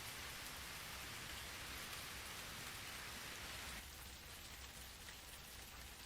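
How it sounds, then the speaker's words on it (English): Heavy rain pours down steadily, a dense hiss of drops with no voices; around the midpoint the wash thins slightly and brighter spatters sound on top. "I run in the heavy rain with dirty water spots underfoot"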